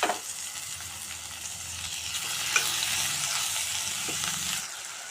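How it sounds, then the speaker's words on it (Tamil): Chopped tomatoes sizzle steadily as they hit sautéed onions frying in a pressure cooker, a constant close hiss with soft stirring scrapes, fading out at the end. "வெங்காயம் நல்லா வதங்கிடுச்சு இப்போ நம்ம தக்காளி சேர்த்துப்போம்"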